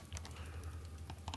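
Close, quiet crinkling of a large candy's plastic wrapper, with soft irregular crackles and rustles in short bursts.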